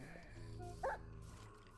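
Wolf bark in Minecraft: one short, sharp yip stands out over a steady game background hum, moderately loud and brief.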